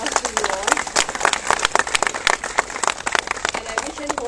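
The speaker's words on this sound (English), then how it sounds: "I think the big round of applause to you all." Round of applause from a gathered crowd at a Navy function honouring Nari Shakti, steady dense clapping with scattered louder claps throughout, sustained and fairly close.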